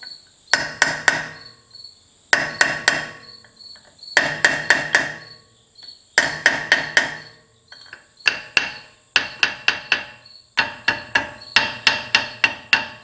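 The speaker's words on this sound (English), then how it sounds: "the manual says to use a punch and just lightly tap on them" A metal punch lightly taps out wheel studs on a Toyota Land Cruiser E70 front hub, with the nut left on, ringing out in quick bursts of three to five bright metallic taps separated by short pauses, close and loud.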